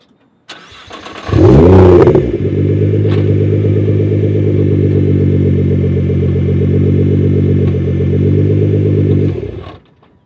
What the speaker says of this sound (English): Let's take a look at that exhaust